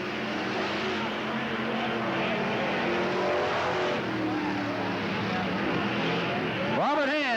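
Race cars roar around Riverside Speedway (Cottage Grove Speedway), engines droning continuously and loudly as they battle for the lead, with one car sweeping past near the end; a track announcer talks over the noise.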